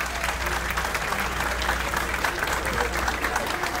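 Steady applause from a crowd at a hotel grand inauguration, continuous and fairly even, heard from a moderate distance.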